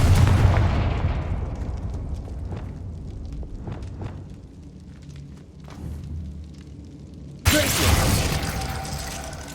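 A Confringo fire-blast spell explodes in the Hogwarts Legacy video game: a loud opening boom that rumbles and fades, then a second sudden blast near the end, with no voices.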